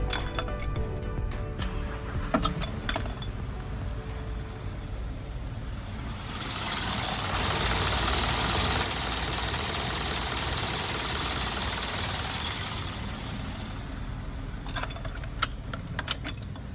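A car engine started right after an oil change settles into a steady idle, with a louder stretch in the middle and some metallic clinks and jingles near the start and end.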